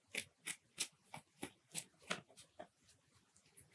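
Tarot cards are shuffled in a soft, rhythmic series of riffling flicks, about a dozen quick pulses close by and faint.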